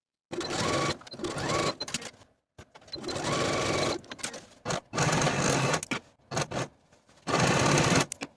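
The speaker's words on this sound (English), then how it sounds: "Sew the shoulder seams with a 5/8 inch seam allowance" A sewing machine stitches the shoulder seams of a dress in several close bursts of rapid mechanical whirring, separated by short pauses.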